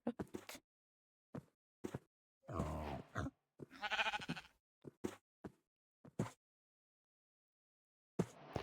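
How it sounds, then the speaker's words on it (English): A sheep in Minecraft bleats in several short, wavering calls, separated by sparse clicks and footstep-like taps with quiet gaps between them. "And I get rudely interrupted by a sheep."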